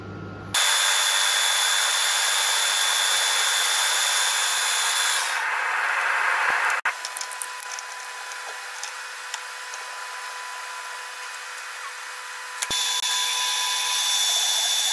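A steady, loud mechanical drone of a machine drilling and reaming a metal mounting plate to 45mm, shifting pitch partway through and again near the end, with no talking.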